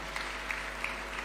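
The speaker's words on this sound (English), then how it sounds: "We can give him a warm clap as he's approaching the stage" Soft, distant applause from a conference hall audience at the Africa Fertiliser summit in Nairobi's KICC as a head of state walks to the stage, steady and faint over a low electrical hum.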